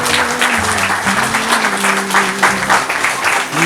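A wedding crowd at a Holy Matrimony ceremony claps steadily and densely for several seconds, loud and close, with a faint tonal hum running underneath.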